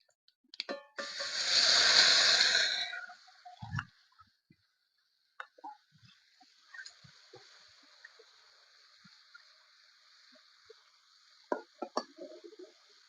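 Ground spice paste hits hot oil already holding nigella seeds and dried red chilies for a stingray and potato curry, flaring into a loud sizzle that settles into a steady fizz with scattered clinks from stirring.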